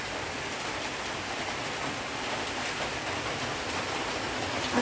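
Rain falls outdoors as a soft, even, broad hiss that stays constant throughout, with no talking.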